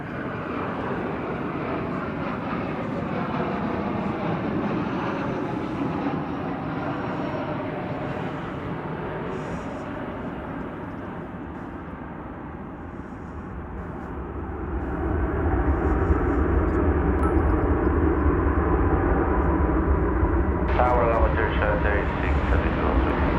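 An American Airlines jet takes off from runway 18 left at Dallas/Fort Worth airport, a broad engine roar that builds and grows louder over the second half, with voices heard beneath it.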